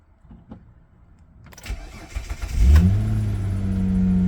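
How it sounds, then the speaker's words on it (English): A cold car engine in around 0°C weather cranks briefly on a jump starter, then catches and settles into a steady, loud idle. "The car starts instantly with no effort."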